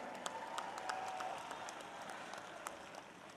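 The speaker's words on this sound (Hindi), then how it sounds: "साथियों जोरदार तालियां बजा करके" An audience applauds to welcome a cabinet minister at a public gathering, a sustained spread of clapping from many people with a few sharper near claps, heard at moderate distance.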